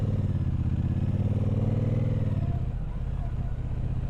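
A 2024 Speedmaster 1200 motorcycle engine drones steadily and close, its low rumbling pulse holding even throughout with no speech over it.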